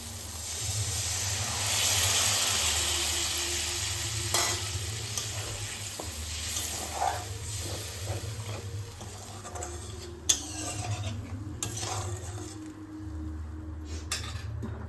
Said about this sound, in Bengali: এবার একটু মশলা ধোয়া জল এখানে দিয়ে দেবো